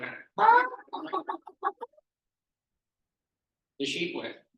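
A storyteller's voice imitates a hen clucking, with a few short, choppy vocal bursts followed by a pause and another brief vocalization.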